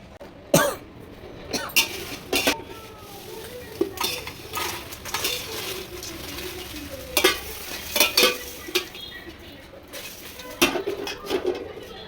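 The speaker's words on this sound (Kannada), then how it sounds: "ಇವಾಗ ನಾನು ಬ್ಯಾಡಗಿ ಮೆಣಸಿನ್ಕಾಯಿ ಹಾಕ್ಕೊಳ್ತಾ ಇದ್ದೀನಿ" Dried Byadagi chillies tumble into a pan and get stirred, with a series of sharp clinks and scrapes of a utensil against metal, scattered and uneven, over a faint background hiss.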